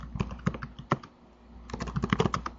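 Fingers type an SQL query on a computer keyboard, quick clusters of crisp, close key clicks in two bursts separated by a short pause, with no voices.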